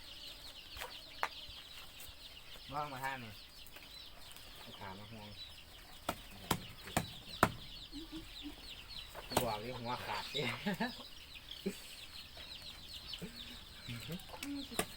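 Chickens clucking in a coop as ducks and chickens are fed, scattered close clucks and short calls rising in bursts while people talk over them in Thai.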